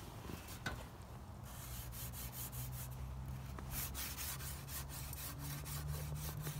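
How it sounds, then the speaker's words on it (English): Aluminum license plate being sharpened, giving a steady rough scraping and rubbing texture with repeated short strokes, close and fairly loud, with no talking. "Brad, can you sharpen a license plate to cut a potato"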